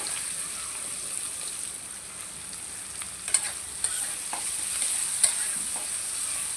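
Onions frying in oil alongside pangas fish, a steady high sizzle with a few sharp stirring clicks and spatters, close and moderately loud, with no talking.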